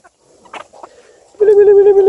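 Chickens being fed soaked bulgur: a few soft scratchy sounds, then a loud, drawn-out bird call close by that fills the second half.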